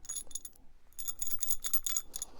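A metal drop-in wedge anchor with a sliding washer, thread and nut gives light, bright metallic rings and clinks as it is handled, in quick irregular bursts at close range, fairly faint throughout.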